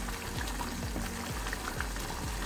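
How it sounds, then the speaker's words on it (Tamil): A thick, spicy kara chutney bubbling and popping steadily in a pan, with a continuous low simmering churn and frequent soft bursts. "இன்னும் கொஞ்சம் நேரம் கொதிக்கிட்டோங்க"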